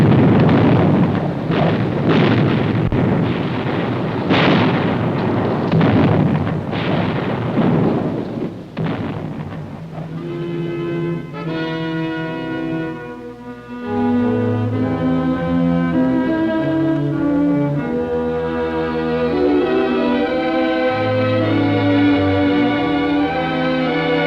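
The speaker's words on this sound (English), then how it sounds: "The arty, tanks, and mortars lay down a barrage that night to bring them out." Night barrage of artillery, tanks and mortars in the Korean War: a dense, loud wall of rumbling blasts and booms for about ten seconds, then continuing under swelling orchestral music with no talk.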